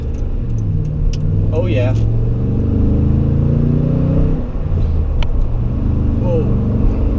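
A Toyota Tundra pickup in tow/haul shift mode holds a low, rumbling engine drone as it engine-brakes, with pitch shifting through gears; a person briefly speaks over it.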